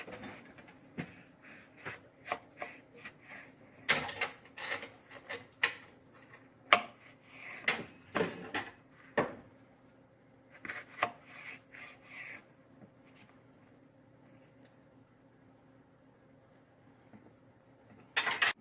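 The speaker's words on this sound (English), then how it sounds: "And then cut these into small slices." Ingredients sliced small on a cutting board, with irregular knife taps and scrapes in quick bursts, close and fairly quiet, followed by a pause and a final thud.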